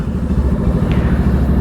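Kramer GP2 prototype motorcycle with a stock KTM 790 Duke twin-cylinder engine in a custom frame, rumbling loud and close at a steady idle-to-light throttle throughout.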